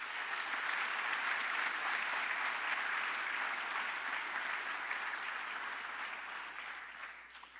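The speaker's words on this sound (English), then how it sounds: "Give yourself a round of applause." Audience applause at a Veterans Day school ceremony: a broad, sustained wash of many hands clapping from a large crowd in a hall, steady throughout and slowly fading toward the end.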